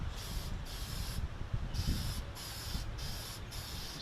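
A spray gun hisses out misty coats of brown toner lacquer onto a Zenith 5-S-29 radio cabinet outdoors, in short repeated bursts with brief pauses between them, over a low wind rumble.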